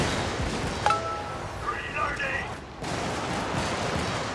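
An artillery barrage in a video game rumbles as a steady noisy roar, with a few sharp cracks and whistling tones mixed into the din and no clear talking.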